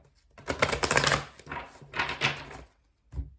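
Two bursts of cards riffling together, a brief shuffle pause between them, then a short tap as the deck settles; close and fairly quiet.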